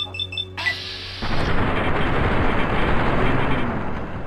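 Gunfire in Fallout: New Vegas opens with a sudden loud report, then a long rumbling, crackling blast tail that fills the rest of the moment with dense noise, no speech.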